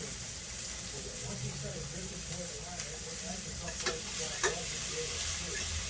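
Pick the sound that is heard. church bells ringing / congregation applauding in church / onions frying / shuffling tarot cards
onions frying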